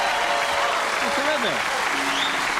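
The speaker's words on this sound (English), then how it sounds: "you heard the applause" Studio audience applause on The Tonight Show fills the clip, steady and loud, with a person speaking briefly over the clapping.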